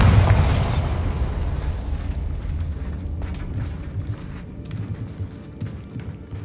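Bombarda spell explosion in Hogwarts Legacy, a loud, close blast that hits at once and then fades into a long, rumbling decay with crackling debris, with no talk over it.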